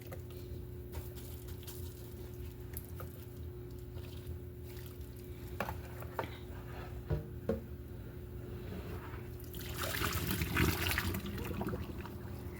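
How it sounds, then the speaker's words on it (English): Hot water pours onto a lace wig in a container, heard as a faint, soft trickle with occasional small clinks, then a fuller splashing pour toward the end. "Going to pour the rest of this water onto the lace"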